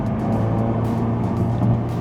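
Ford Focus RS hot hatch engine holding a steady, loud, deep rumbling drone that swells slightly near the end, heard alone without talk.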